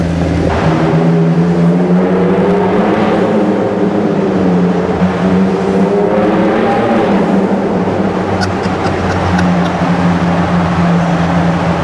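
A Ford Ranger Raptor with a custom-built exhaust system revs loudly and close, its droning note rising and falling in sweeping pulls across the whole stretch.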